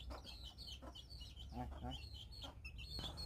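Chicks and hens on a small backyard farm cheep and cluck in quick overlapping calls, close and continuous over a low background hum, with a voice speaking faintly among them.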